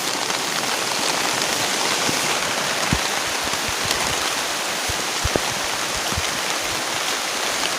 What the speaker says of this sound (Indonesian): Hujannya gede juga.